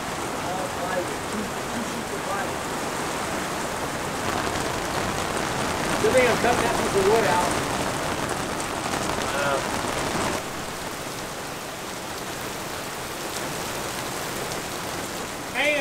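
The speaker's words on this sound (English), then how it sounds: "It's raining." Steady rain falls outdoors beside a classic Winnebago RV, a dense continuous hiss of drops on surfaces that swells slightly midway, with faint voices now and then.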